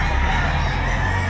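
Roosters and chickens offered for sale at a Saturday market behind a mall in Lipa, Batangas, crowing and clucking loudly and continuously at close range, with no talk.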